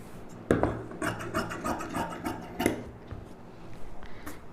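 Scissors cut through blouse lining fabric along a marked neckline shape, giving a series of close, crisp snipping and rasping strokes in an uneven rhythm with no talking.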